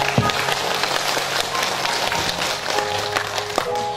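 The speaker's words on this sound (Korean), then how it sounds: "큰 박수 부탁드리겠습니다." An audience at a family filial-piety reading concert for Daejeon Seo-gu residents claps steadily, a moderately loud, even patter of many hands with a faint tone humming beneath.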